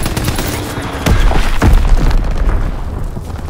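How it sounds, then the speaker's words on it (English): A bomb blasts in Call of Duty: WWII on the Shipment 1944 map, two loud, close booms in quick succession over a busy clatter of gunfire. "Enemy bomb incoming."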